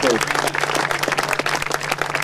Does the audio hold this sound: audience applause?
yes